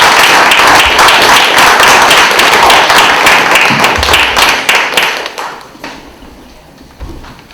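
Applause from a panel discussion audience in Vermont: a loud, dense burst of many hands clapping that thins out and fades over the last couple of seconds, with a few scattered final claps and no talking.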